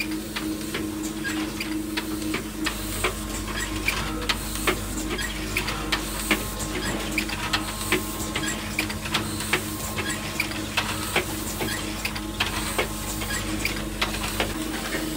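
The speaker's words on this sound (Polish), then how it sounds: "tutaj też maszyna do skręczania. Tu jest skręczanie od dołu." In an LED factory, an automated machine screws PCB boards into frames from below, giving a steady mechanical hum with a low drone and repeated sharp clicks and ticks throughout.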